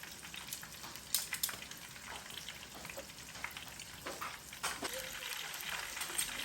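Shrimp eggrolls fry in a pan with a steady, quiet sizzle and scattered crackling pops throughout, a few sharper spits standing out.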